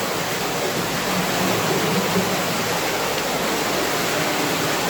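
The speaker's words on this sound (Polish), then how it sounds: "No tu jest rzeka" Steady, full rushing water fills the whole stretch, a constant broadband roar of a fast underground river flowing nearby in the Giant's Hole cave, with no pauses or voices.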